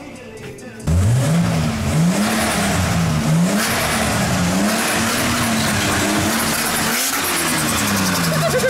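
A car engine revs up and down repeatedly, a loud rising and falling whine that starts abruptly after a brief quiet moment and continues steadily close by, with no talking.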